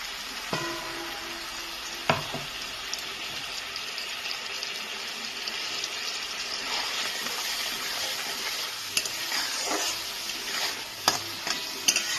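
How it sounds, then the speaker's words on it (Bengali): Mustard paste masala with green chillies and salt stirred in a frying pan for Bengali rui fish jhal, a steady loud sizzle with scraping spatula strokes and occasional clicks, no voices. "সর্ষে বাটাটা দেওয়ার পর আমি এটাকে কিছুক্ষণ নাড়িয়ে নিয়েছি"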